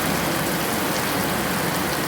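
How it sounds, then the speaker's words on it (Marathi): Heavy monsoon rain pours down steadily on a rural farmyard, a dense, continuous hiss of close, loud rainfall with no voices over it. "खूपच पाऊस येतोय"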